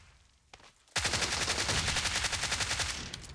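Rapid automatic gunfire from a Thompson in PUBG Mobile, a dense sustained burst of about two seconds preceded by a couple of single shots, loud and close with no talk over it.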